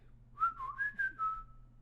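A person whistles a short rising and falling tune of about four bright, clear notes, close and moderately loud over a faint low background hum.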